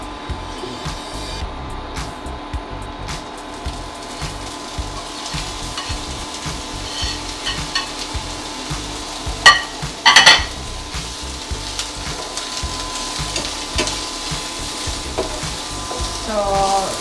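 Chopped onions sauté in a pan for a tofu pinakbet, a steady close sizzle with stirring and a brief clatter of utensil against pan near the middle.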